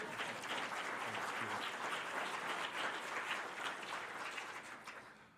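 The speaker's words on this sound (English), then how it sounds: "Another round of applause for our Rotary president." An audience gives a Rotary club president a round of applause, a sustained patter of many hands at moderate level that fades slightly at the end.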